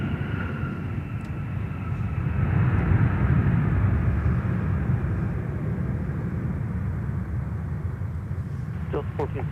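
A former Northwest Red Tail Boeing 757-300 touches down at Minneapolis airport, a loud sustained jet roar that swells and then eases slowly, with someone talking over it and a faint radio blip near the end.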